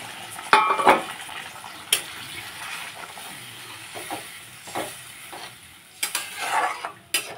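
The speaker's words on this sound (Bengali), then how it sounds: "এখন দিয়ে দিচ্ছি পরিমাণ মতো জল।" Spices and potatoes fry in a pan as water goes in, giving bursts of hiss and sizzle with clinks of a utensil against the pan, loudest near the start and again toward the end, no voices.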